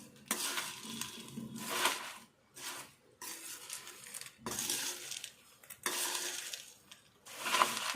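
Curry leaves and masala are stirred into fried bondu for a crunchy mixture snack, the spoon scraping and clinking against the metal pan in repeated bouts with short pauses between.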